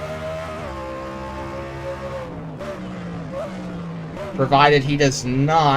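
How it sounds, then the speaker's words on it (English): A race car in a racing video game downshifts, its engine blipping and rising in a few quick revving bursts right after a stretch of commentator speech. "Whoa, did you hear that downshift?"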